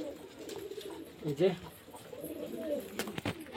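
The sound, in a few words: Murshidabad Giribaz pigeons cooing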